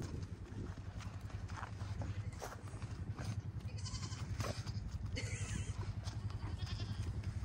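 Goats on a homestead bleat among farm animals, several scattered calls over a busy background of hooves and movement, fairly faint and with no clear talk.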